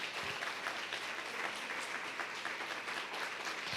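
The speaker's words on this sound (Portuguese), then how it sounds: "Se for para aplaudir, aplauda o Senhor mais forte que você puder." Congregation applauding during an online church service, a dense, steady wash of many hands clapping that fills the room with no talk over it.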